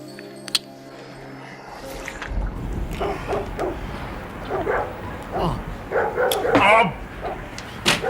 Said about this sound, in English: Oh, bloody dogs.